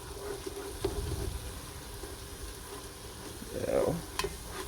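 Broccoli soup cooking in a pot as butter goes in, a low steady sizzle and bubbling with a brief stir and a few light clicks of utensils.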